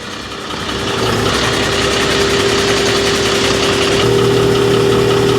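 A Daewoo Maximus truck carrying a 45-metre Horyong Sky 450 aerial lift idles, then its engine note swells and holds steady as the hydraulics raise it onto outriggers, a constant close hum with a slight step up near the end.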